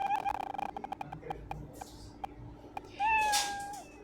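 Cat meow sound effect played back in Scratch, a rising harmonic meow near the end, loud and slightly glitchy, after choppy clicks and stuttering playback with a voice talking early on.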